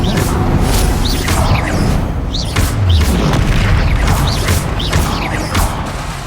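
Confringo blasting spells exploding in the Hogwarts Legacy video game, repeated loud booming bursts with whooshing spell sounds and crashing debris, under steady game combat noise.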